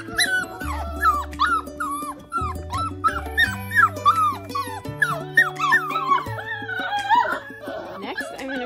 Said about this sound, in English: Here are Kitt's puppies just after they had a bath